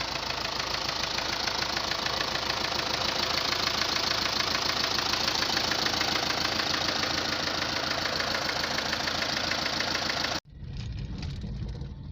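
An MTZ-80 tractor engine runs steadily with a loud, rough, knocking rumble, then cuts abruptly near the end, leaving a quieter lower drone.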